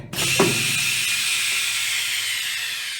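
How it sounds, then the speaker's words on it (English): Unica skin tray sealer pulling vacuum and sealing film over a tray of drumsticks: a steady loud hiss with a mechanical clunk near the start, running evenly to the end with no voices. "Vacuums the film down over the drumsticks, and then it will seal to the flange of the tray and cut the film to the shape of the tray"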